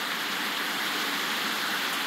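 Steady rain effect from a video game: an even, dense hiss of falling rain that holds constant for the whole stretch, with no voices or other sounds.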